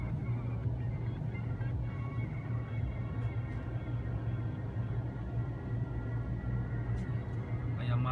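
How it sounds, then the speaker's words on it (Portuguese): An automatic car wash machine in Japan works over a car, making a continuous loud mechanical drone and rushing spray that stays steady throughout, with a voice faintly present. "Aí a máquina lava o carro"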